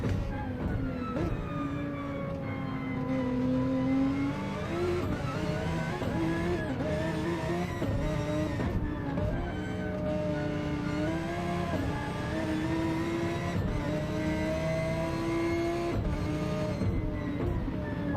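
A GT race car at Brands Hatch accelerates out of a corner, its engine note climbing steadily through the gears with short dips at each shift, loud and sustained, with no talking.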